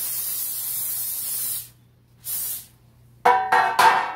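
Cooking spray hisses onto the bottom of a 13 by 9 inch baking pan for brownies, in two long bursts and then two shorter, louder sprays close by, with no talking.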